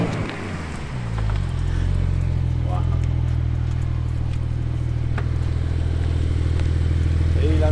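A Porsche 992 Carrera 4S drives back toward the listener, its engine swelling into a loud, steady low rumble that grows slightly over several seconds, with a voice talking over it.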